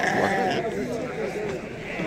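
Sheep at a livestock market bleat among a dense crowd murmur of many voices, the animal calls blending into the busy chatter close by.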